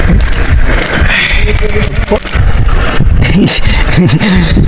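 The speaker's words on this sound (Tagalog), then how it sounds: "kahit umuulan pa rin" Steady rain pours down in a dense hiss at night while cast-net fishing, with a low engine hum and a few voices underneath.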